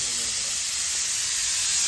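Pressure cooker with saag releasing steam in a continuous loud, high hiss, close by, with faint voices underneath.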